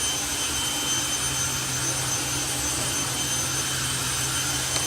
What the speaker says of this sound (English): You can hear the jet below us here as we get ready for the Flamin' Afterburner show.